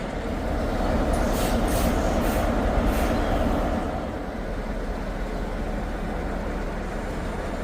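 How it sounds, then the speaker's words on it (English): A train rumbles steadily nearby at a station platform with a low, continuous roar, faint metallic hissing flickering above it, no voices heard. "The train is using platform 1"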